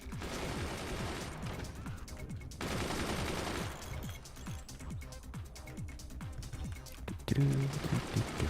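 Rapid machine gun fire rattles across a battlefield in the strategy game Forts, with dense repeated bursts that come in waves, pausing briefly before resuming, followed by a louder impact near the end.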